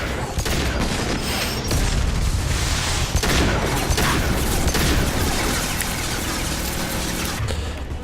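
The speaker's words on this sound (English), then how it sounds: "let's switch over to the heavy pistol" Heavy pistol fire in the shooter Mass Effect comes as a dense, continuous barrage of booming shots and impacts. The racket stays loud and unbroken throughout, with no talk over it.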